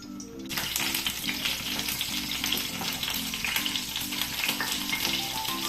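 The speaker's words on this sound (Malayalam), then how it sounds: "ചെമ്മീൻ വറക്കാം." Prawns sizzle and fry vigorously in hot oil in a pan for a Kuttanadan chemmeen theeyal, a loud, steady crackle that starts abruptly and continues with occasional stirring.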